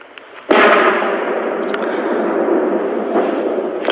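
Incoming shelling at the front line: a sharp blast hits suddenly, then a long, loud rumbling roar lingers with faint scattered cracks, close and heavy, with no voices.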